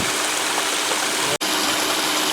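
Water rushes steadily through a prospecting sluice below a punch plate. The flow is a loud, continuous wash up close, broken only by a momentary dropout.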